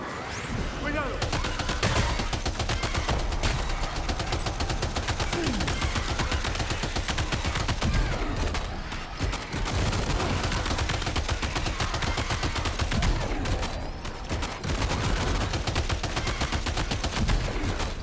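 Rapid, dense gunfire in the video game Death Stranding 2: sustained automatic bursts crackling almost without pause, close and loud, with brief gaps and someone talking over parts of it.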